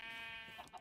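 A sheep bleats in the Minecraft video game, a short, faint, wavering call following a steady tonal background hum.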